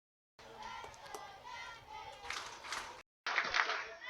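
Baseball crowd cheering and clapping for the Welland Jackfish in the bottom of the seventh inning, a distant wash of applause and shouts that swells in waves, cut off briefly before a louder burst returns.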